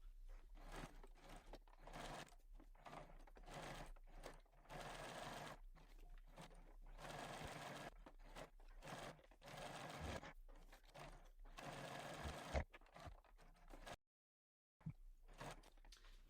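A sewing machine stitches quilting lines across a fabric oven mitt in short, quiet bursts of rapid stitching separated by pauses, close and alone with no talk.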